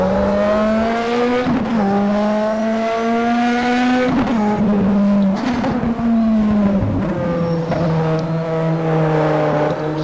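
Mazda 787B rotary engine in the rFactor racing game revving hard and continuously, pitch climbing through gears with brief drops at shifts, loud and close throughout.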